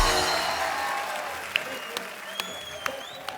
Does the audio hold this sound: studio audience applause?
yes